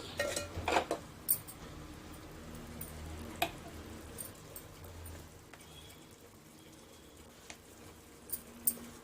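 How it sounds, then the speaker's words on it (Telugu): A spoon stirs chicken curry with curry leaves in a pan, scattered clinks and scrapes of metal over a soft sizzling background, with a few sharper knocks spread through the stretch. "ఇప్పుడు మనము కరివేపాకు వేసుకుందాము ఇదంతా ఒకసారి ఇలా కలుపుకోవాలి"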